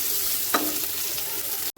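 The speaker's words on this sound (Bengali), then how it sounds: "এটা একটু ভেজে নেব আলুটা" Boiled potato pieces frying in oil, a dense close sizzle with a single stirring scrape partway through, brief and alone.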